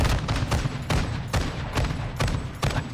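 Call of Duty gunfire in rapid bursts, several loud close volleys of shots in quick succession, each with a short crackling tail.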